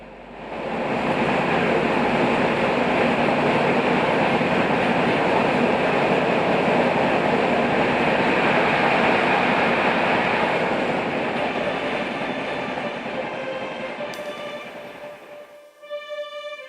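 A train rumbles along the rails in a loud, steady roar that slowly eases and thins out near the end.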